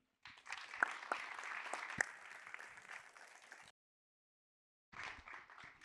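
A conference audience at a digital policy summit claps for a panel, sustained applause with a few sharp individual claps, then a pause of silence before a second, shorter burst of clapping.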